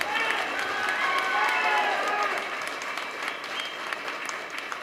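An auditorium audience applauds in a dense, sustained wash of clapping that swells and then gradually thins, heard alone throughout.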